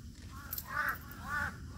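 A crow caws twice near a white-sand beach resort in Unisan, Quezon. The two hoarse calls are fairly faint and slightly distant, with a quiet background and no talk.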